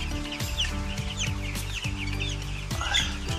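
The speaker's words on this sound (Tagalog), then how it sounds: "Ito naman guys yung first batch natin na manok." Broiler chickens, a batch about 24 days old on a small farm, clucking and chirping continuously in a dense flock, with overlapping calls and a steady low hum of activity close by.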